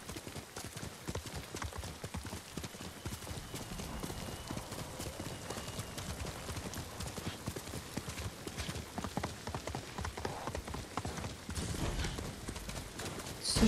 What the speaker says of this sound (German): Komm, ich geh mit dem Pferd runter.